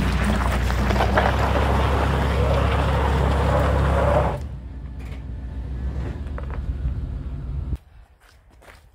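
Suburban SUV engine roaring loudly under strain while pulling a giant log, holding a steady heavy drone for several seconds before dropping to a lower rumble and then cutting off.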